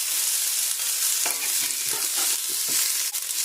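Corn, paneer and capsicum stir-fried in a hot pan with whole spices, a continuous bright sizzle broken by several scraping stirs of a spatula, close and loud with no talking.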